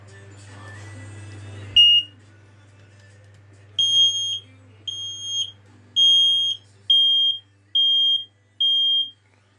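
A Fire Angel smoke alarm under test lets out a short chirp, then a run of six loud, evenly spaced high beeps over a low steady hum.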